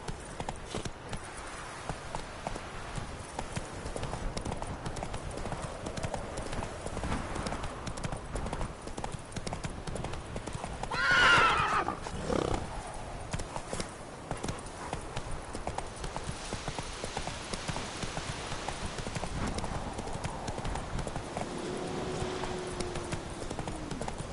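Hooves of Roach, a horse in the video game The Witcher 3, clip-clop in a steady galloping rhythm throughout, with a louder burst of movement midway and no talk.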